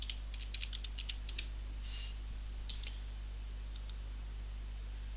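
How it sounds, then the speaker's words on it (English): Computer keyboard typing while entering a search term into an SEO tool, heard as short bursts of quiet keystroke clicks over steady low hum, with a pause and a couple of later taps. "Now if I type in blogging,"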